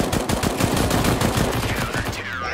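Rapid automatic gunfire in Counter-Strike: Global Offensive, a dense loud burst of closely spaced shots that runs nearly continuously before cutting off near the end.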